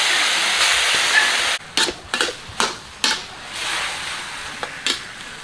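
A loud, continuous sizzle and hiss of pork fat frying in a hot pan without added oil over high heat, broken by several sharp clanks and scrapes of stirring.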